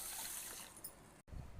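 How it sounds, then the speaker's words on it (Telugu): Rice and moong dal being rinsed together in water: a short burst of sloshing, trickling water close by, cutting off abruptly, followed by a faint low rumble. "ముందుగా బియ్యాన్ని పెసరపప్పును కలిపి కడిగి నానబెట్టుకోవాలండి"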